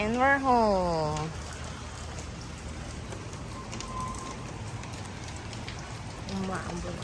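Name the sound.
light drizzle of rain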